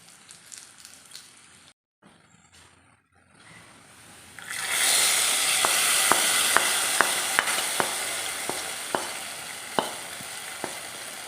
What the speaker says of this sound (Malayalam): ഇതങ്ങനെ നമ്മുടെ മുന്തിരിങ്ങായും നമ്മുടെ തേങ്ങാക്കുത്തും എല്ലാം മൂത്തിട്ടുണ്ട് ഇനിയിപ്പോൾ നമുക്ക് നമ്മുടെ പായസത്തിനകത്തേക്ക് ഒഴിച്ചു കൊടുക്കാം